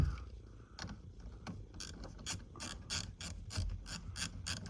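A wrench ratchets while tightening a battery terminal on a VW Transporter T5 1.9 TDI, a run of quick close metallic clicks that starts sparse and becomes a rapid, fairly regular ticking.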